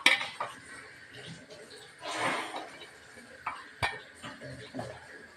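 Ground paste goes into a pot of cooked jackfruit with a few close metallic clinks and scrapes of a utensil against the pot, separated by quiet gaps and soft handling noise.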